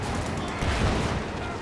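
High explosive rounds fired at a Sherman Pioneer tank in Company of Heroes 2, a thick wash of booming blasts and battle noise with a heavier impact near the middle, mixed with voices.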